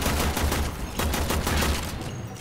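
Rapid bursts of gunfire from the video game Warframe, several volleys in quick rhythm, loud and close, trailing off near the end with no talking.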